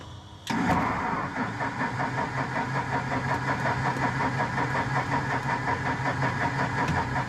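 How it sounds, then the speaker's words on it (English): A restored Cessna Bird Dog aircraft's piston engine catches after a short quiet lead-in, then runs on as a loud, steady, slightly rough near idle with a rhythmic throb, no voices over it. "The engine is less than enthusiastic."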